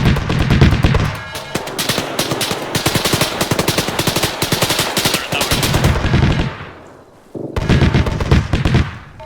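Dense automatic gunfire in the Arma military game, with rapid loud bursts from nearby weapons running almost continuously, a short lull, then a fresh volley, and no talk.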